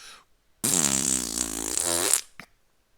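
A single long, loud, buzzing fart sound runs unbroken for about one and a half seconds, with no other sound around it.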